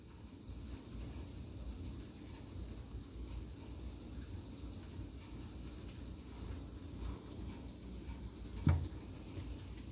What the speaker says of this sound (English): look at those rain